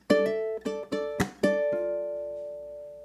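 A ukulele plays the second half of a song's riff: five or six quick plucked notes in a row, the last one left ringing out alone and fading.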